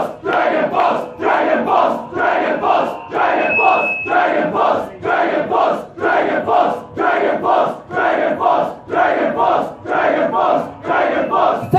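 Concert crowd at a show in Wellington chanting the band's name in a steady, rhythmic call repeated over a dozen times, loud and roaring throughout.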